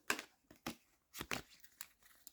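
Tarot cards being shuffled give a series of close, crisp riffling and rustling bursts, about six of them in an uneven rhythm with short quiet gaps between.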